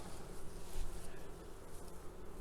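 Honey bees crowd around a large queen inside an open hive during a queen replacement, making a soft, steady buzzing hum with no voices.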